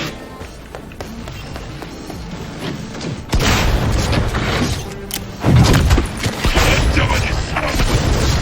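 A grenade blows up in Cyberpunk 2077 with a sudden loud boom, followed a couple of seconds later by a second heavy blast amid ongoing mechanical game noise.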